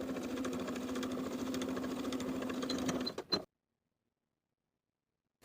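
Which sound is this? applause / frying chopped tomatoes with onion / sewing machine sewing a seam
sewing machine sewing a seam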